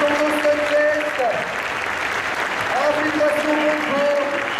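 Clapping from the Stunfest 2015 Ultra Street Fighter 4 team final audience greeting two Korean players, a continuous spread of applause mixed with a commentator's voice and hall tones.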